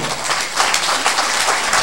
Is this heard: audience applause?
yes